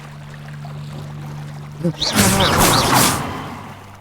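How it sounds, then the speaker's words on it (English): Splashing and sloshing of a video game character wading through water, a broad wet burst in the second half after a quiet stretch with a steady low hum, with faint chirpy bird- or insect-like calls. "Wading through the water."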